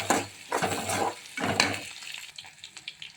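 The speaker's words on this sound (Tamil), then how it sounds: "வாங்க கரண்டி எடுத்து கொஞ்சம் லேசாக வணக்கி விட்டுக்கலாம்." Onions frying in a pan being stirred with a ladle over a raised flame, scraping sweeps in bursts over a soft sizzle, fading to lighter clinks and crackle.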